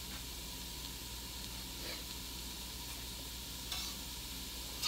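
Cabbage frying in a pan for a home-cooked Polish dinner of pierogies, a steady, soft sizzle and hiss running throughout with a couple of brief stirring sounds, no talking.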